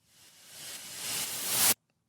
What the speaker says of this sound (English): So we've got this little white noise riser.